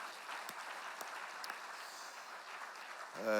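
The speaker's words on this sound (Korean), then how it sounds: "우리 청년들에게 힘찬 격려의 박수 한번 해주시기 바랍니다" A church congregation claps steadily for a few seconds during an early-morning prayer service, a broad wash of applause that fades slightly before a voice begins at the end.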